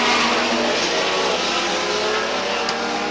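Race cars in a heat race at Star Speedway roar continuously as a loud, steady engine drone fills the whole stretch, with no talk over it.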